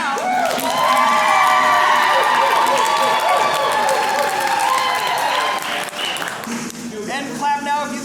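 An improv comedy show audience bursts into loud, sustained clapping mixed with cheers and whoops to vote for the red team, fading into scattered claps and a few voices near the end.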